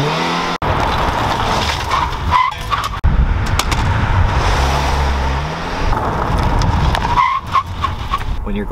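County vehicle skidding and sliding at about 45 mph during off-road recovery training, a continuous loud rush of tires and engine with brief cuts and squealing bursts, voices talking throughout.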